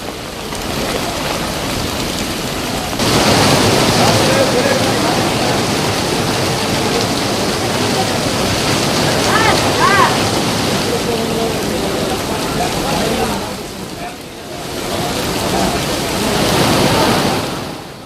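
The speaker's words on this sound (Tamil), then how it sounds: "திருவள்ளூரில் கனமழை கொட்டி தீர்த்தது" Heavy rain pours down in Tiruvallur, a dense, steady roar of water that fills the whole scene with no pauses.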